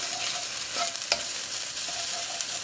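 Garlic, ginger, soft onion and pepper fry in a pan for Indonesian nasi goreng, giving a steady close sizzle broken by a couple of sharp utensil clicks while being stirred, with no talking.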